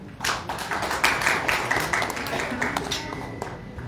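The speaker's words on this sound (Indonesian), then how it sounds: "Tepuk tangan kepada Mas Teddy." Audience applause for a participant at a journalism training workshop, a burst of scattered hand claps rising early and continuing steadily through, with people talking over it.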